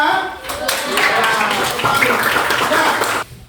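Students in a classroom clap their hands together in a dense, continuous burst mixed with young voices. The clapping stops abruptly near the end.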